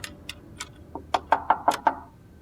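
A series of about eight knocks on a door, the first few light and spaced, then five firmer, evenly paced raps in quick succession, close and alone without talk.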